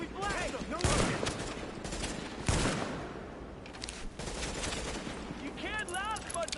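Gunfire rattles through a shootout in Tom Clancy's The Division, with loud bursts and single shots at irregular intervals and voices calling out over the battle.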